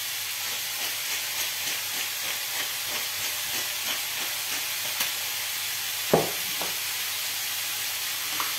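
Chicken pieces sautéing in a pan for a curry, a steady hissing sizzle with scattered crackles and one sharper clatter midway, no voices.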